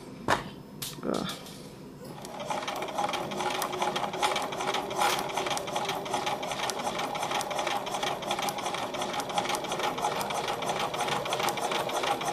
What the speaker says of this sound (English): now I'm going to just stitch, do a little back stitch so it holds your stitches down